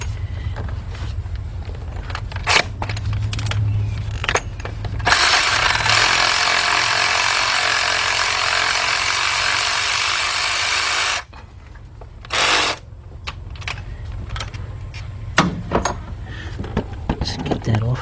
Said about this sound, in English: let's take our 13mm cordless 3/8 drive ratchet